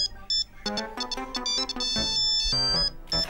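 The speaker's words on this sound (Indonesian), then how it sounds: "Telepon itu kagak tahu orang lagi ribut apa ya." A melodic electronic telephone ringtone plays in a home, its bright repeating tones sounding loud and close, alone without talk.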